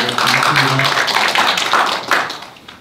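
An audience at a university Buddhist club anniversary event applauds to welcome a professor: a dense, steady wash of many clapping hands that tapers off at the end.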